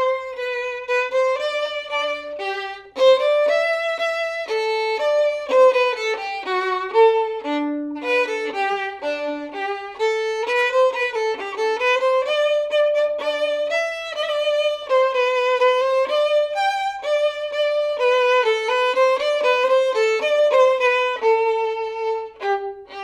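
Violins play a Rondeau passage in a school honor orchestra arrangement, a bright, steady melodic line of sustained and detached notes that swells from soft to very loud and holds strong to the end.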